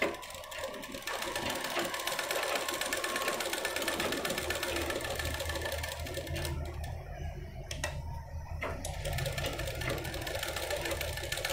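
A sewing machine runs continuously and steadily, stitching piping along the edge of a blouse backed with canvas, its rapid needle chatter filling the whole span with two brief dips near the end.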